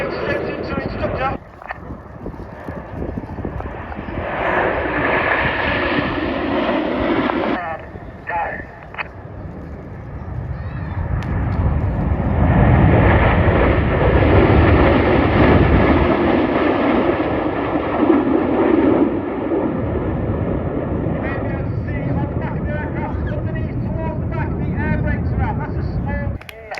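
Red Arrows jets roar steadily over the RAF Cosford air show, a loud broad rumble that swells and fades across the sky while a public-address commentator talks throughout.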